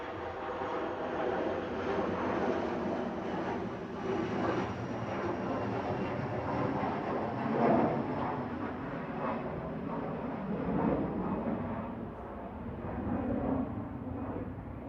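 Jet airliner inbound from Alicante passing over at Manchester Airport, a steady broadband roar with rumbling low end holding across the whole stretch, swelling slightly at moments, no talk over it.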